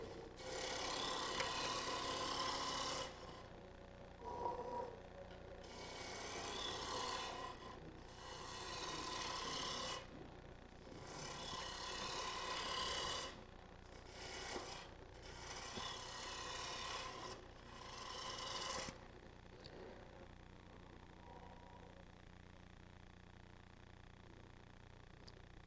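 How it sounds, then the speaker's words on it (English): A spindle roughing gouge cuts wood spinning on a lathe for a pencil box, a loud rough shearing rasp that comes in repeated bursts of a few seconds each, separated by short pauses with a faint steady hum underneath. "I'm just using a spindle roughing gouge."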